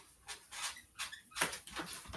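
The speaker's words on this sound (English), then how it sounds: "Find a less squeaky part of my floor." Soft creaks and squeaks of a floor shift underfoot in bursts, with a sharper squeak midway; fairly quiet and close, no talking.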